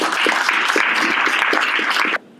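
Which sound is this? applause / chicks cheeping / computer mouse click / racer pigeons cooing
applause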